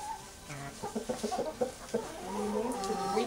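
Rescued hens at a farm sanctuary cluck in a quick burst of short, close calls, then settle into a softer, murmuring chatter.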